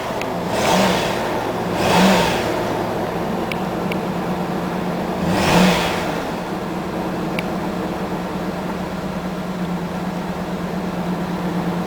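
A Dodge Dakota engine idles steadily after a fuel pump replacement and revs up in three swelling bursts early on before settling back to a constant hum, heard alone.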